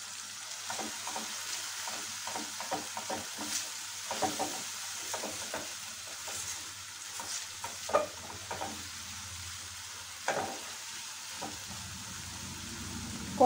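Onion, garlic, cumin, coriander and cinnamon masala sautéing for a yogurt chicken dish, a soft frying hiss broken by quiet spatula scrapes and taps against the pan, fairly faint and steady.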